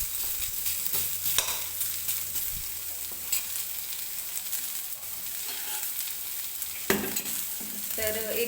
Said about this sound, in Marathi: तर मी सुरुवातीला 1-2 मिनटं असाच हा कांदा भाजून घेते, म्हणजे कांदा लवकर भाजला जाईल.